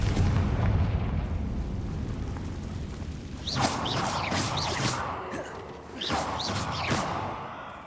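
A Confringo fire spell in Hogwarts Legacy detonates in a booming blast, followed by a run of sharp crackling bursts and pops of varying loudness over a continuous rumbling background.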